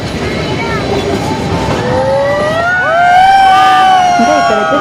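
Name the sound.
Ooty toy train running on the track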